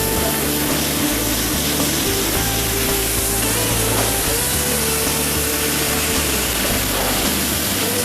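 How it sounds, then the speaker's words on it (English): Sauvignon Blanc poured into a hot skillet to deglaze caramelized sugar from a filet dish makes a loud, steady hiss that runs unbroken for the whole stretch. "This wine, it deglazed all the sugar that caramelized on the skillet and soaks it back up into the sauce"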